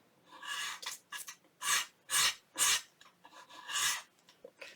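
Scissors trim recycled window-envelope paper at the edge for a junk journal, a series of quiet, short raspy snips and rustles in irregular bursts, close by.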